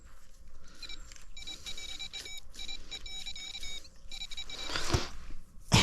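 Repeated electronic beeps from a metal detector searching a beach, steady high-pitched tones in short bursts over rustling outdoor background noise, ending with a louder scraping rustle.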